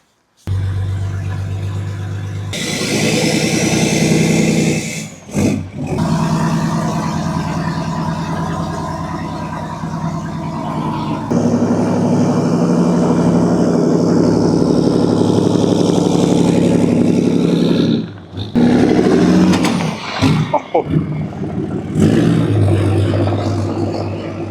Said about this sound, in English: Now we're just gonna go drifting on wheels.